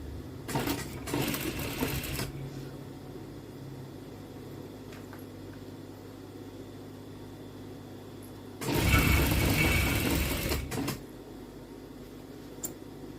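A sewing machine stitches fabric along a marked line in two bursts, a short run at the start and a longer one later, loud and close, with a quiet room hum between runs and no talking.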